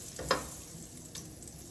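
Unsalted butter sizzles faintly as it coats a hot pan, with a brief louder spatter early on and then a soft, steady hiss.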